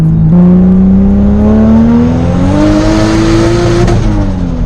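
A turbocharged Toyota Supra making over 500 wheel horsepower on raised boost accelerates hard, its loud engine note climbing steadily, then dipping briefly at a shift into third gear before rising again, with no talking.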